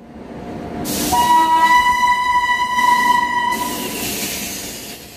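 A train at Sawai Madhopur railway station sounds a long, loud horn lasting several seconds, a sustained tonal blast over the rumble of the railcars.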